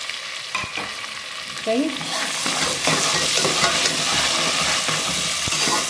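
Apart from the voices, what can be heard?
tomatoes frying in a pan for matar pulao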